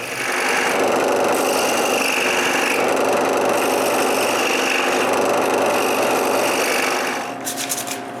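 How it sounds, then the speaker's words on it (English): A scroll saw buzzes steadily and loudly as it cuts small lines into a wooden cryptex piece, running continuously before winding down at the very end, with no voices. "Then I make small lines with a scroll saw."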